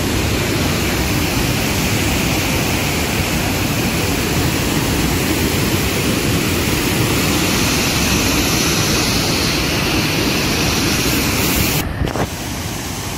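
Roaring rush of a mountain torrent, a dense steady broadband wash of water that stays loud and unbroken throughout, with a brief dip near the end.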